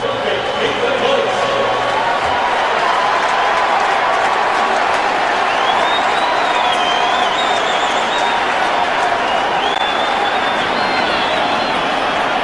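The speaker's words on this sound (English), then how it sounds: "It's a fired-up crowd." A fired-up stadium crowd roars at an NFL game between New England and Indianapolis in 2003, a dense continuous wall of cheering and clapping, with a commentator's voice faintly audible over it.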